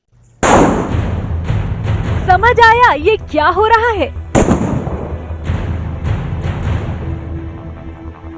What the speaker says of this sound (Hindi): दावा किया जा रहा है कि इस जूते से गोली निकल रही है